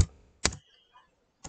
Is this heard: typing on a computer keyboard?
yes